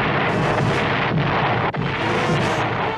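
A rapid chain of missile detonations from the 1978 Battlestar Galactica space battle, a loud, continuous roar of overlapping blasts and rumbling booms with no voices.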